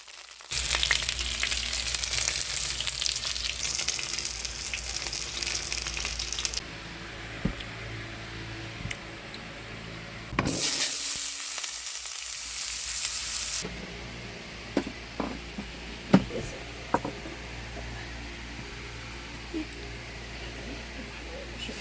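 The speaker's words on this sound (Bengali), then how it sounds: "পটলগুলো আমি এখন কড়াইতে দিয়ে ভেজে নেব।" Pointed gourd (potol) hisses and sizzles loudly in oil in a wok, a bright steady frying roar with a quieter middle stretch and scattered spatula clinks near the end; a voice speaks briefly.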